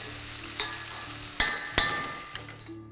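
Green pea paste fries in a pan for matar ka nimona, a steady close sizzle with a few sharp scraping clicks of a spoon against the metal partway through.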